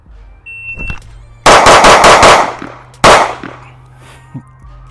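A CZ Shadow 2 Compact pistol fitted with an aftermarket recoil spring set fires a rapid string of loud, close shots, then a pause and one or two more sharp reports with echoing tails.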